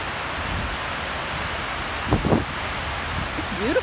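Wind gusts outdoors in Manhattan on a chilly day, a steady broadband rush filling the background with a few brief louder buffets and faint voices toward the end.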